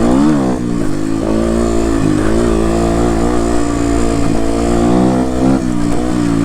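Loud, close engine of a Beta 125 RR LC two-stroke dirt bike ridden through a forest, its pitch rising and falling with the throttle in a continuous uneven drone.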